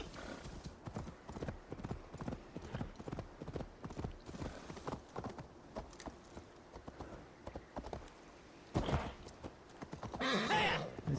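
Hooves of a galloping horse in the video game Assassin's Creed Valhalla, a steady rapid clip-clop close up for several seconds, then a brief burst of louder movement and a snort or whinny near the end.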